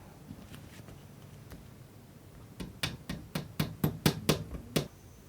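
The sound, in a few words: hammering a draft-proofing strip into place on a sash window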